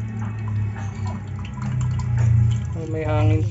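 Water pours from a water purifier bought online, a close, steady trickle and splash with a voice speaking over it.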